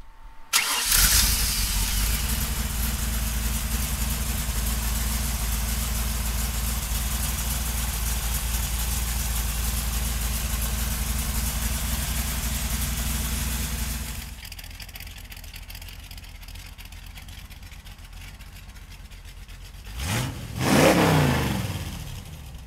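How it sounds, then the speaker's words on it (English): A 1965 Shelby Cobra Factory Five starts with a quick crank and catches into a loud, rumbling idle. About fourteen seconds in it settles to a quieter idle, then gives a brief rising rev near the end. "So come on up and we'll fire it up for you right now."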